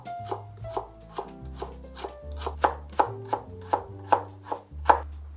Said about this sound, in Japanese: 人参も細切りにしていきます。